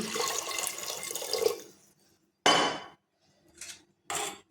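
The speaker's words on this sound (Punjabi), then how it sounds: "ਕੁੱਕਰ ਤੇ ਆਪਾਂ ਇਹਦੇ ਵਿੱਚ ਪਾਤਾ ਪਾਣੀ ਪਾਣੀ ਆਪਾਂ ਇਹਦੇ ਥੋੜਾ ਜਿਹਾ ਹੋਰ ਪਾਉਣੇ ਆ" Water splashes into a pressure cooker in a home kitchen: one longer pour, then several short, close splashes and clinks separated by quiet gaps.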